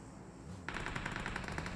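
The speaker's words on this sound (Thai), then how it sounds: "เสียงปืนนะครับ" Rapid bursts of machine gun fire in PUBG Mobile break out suddenly after a quiet moment, continuing in a fast, steady rattle with a synthetic, game-like sound.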